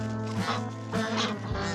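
White ducks quack repeatedly on a farm, several calls overlapping in bursts close to the microphone over a steady background.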